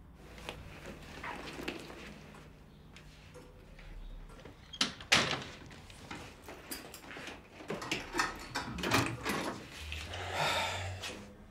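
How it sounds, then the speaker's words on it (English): A door closing in a quiet indoor room of a romance drama, heard as a loud thump-and-click around the middle, followed by scattered knocks and handling noises, with no talk. "I'll close the door behind me."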